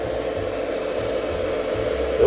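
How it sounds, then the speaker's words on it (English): Camper converter battery charger running, a steady close hum with a constant electrical whine and a faint fan-like hiss, alone without talk. "Okay, you can hear it running."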